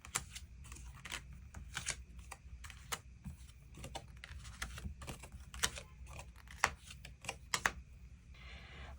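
Tarot cards being drawn and handled from a shuffled deck, a run of soft, quick papery flicks and taps at close range, with no talking.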